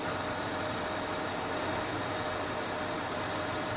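Car engine idling with its idle air control valve bleeding air, a steady hissing suction sound over a low, even engine hum, constant and close.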